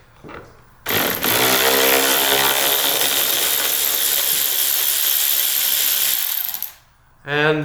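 A power driver with a T25 Torx socket spins out dash fasteners on a 2023 Ski-Doo Backcountry X Gen 4 snowmobile, one loud steady whirring run of about six seconds, then a short second burst starting at the end.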